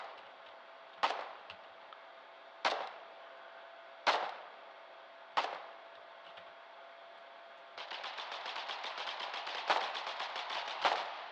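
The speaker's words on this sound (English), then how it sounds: "As gunshots are ringing out here." Gunfire in a video game battle during a final assault on a city: four sharp single shots spaced a second or two apart, then a sustained rapid automatic burst with a few louder cracks, fairly distant and alone without talk.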